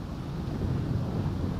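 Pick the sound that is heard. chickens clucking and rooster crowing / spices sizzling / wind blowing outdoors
wind blowing outdoors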